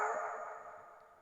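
A man imitates a village dog barking with his voice, one sustained strained bark-like howl fading out over about a second, heard alone with no other sounds.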